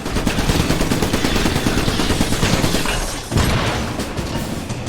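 Sustained gunfire in the 2011 Xbox 360 game Iron Brigade, a continuous loud barrage of rapid shots and booms with a brief dip near the end before firing resumes.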